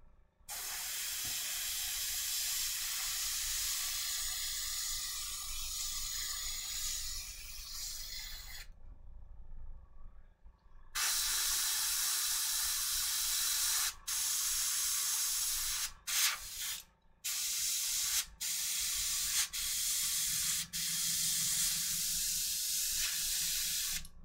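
Airbrush spraying paint onto a miniature bust at a hobby workbench, a steady close hiss running in long bursts with brief pauses and short stops between passes, no talking.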